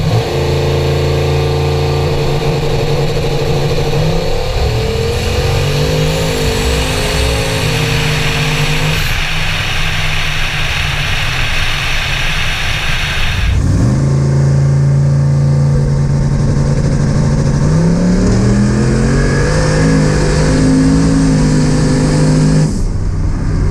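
Turbo LS Nissan truck, twin-turbo Camaro and nitrous LS Mustang drag racing, engines roaring and revving hard through gear changes, loud and close, with a sharp break mid-run before another car launches and climbs through its shifts.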